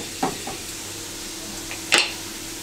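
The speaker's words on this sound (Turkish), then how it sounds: "Önlü arkalı olacak şekilde iki tarafında pişiriyorum kreplerin." A thin crepe fries in a pan over low heat just after being flipped, a steady soft sizzle close by, broken by a couple of brief spatula scrapes or taps.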